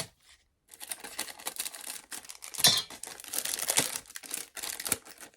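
Crinkly plastic wrapping is torn and opened on a small Frozen-themed item with an Olaf figure from a NOZ, Vinted and AliExpress haul, with rustling bursts and a sharper rip near the middle, plus a brief voice at the start.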